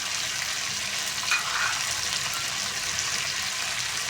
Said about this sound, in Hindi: चिकन को हमने अच्छे तरीके से फ्राई कर लेना है सारी साइडों से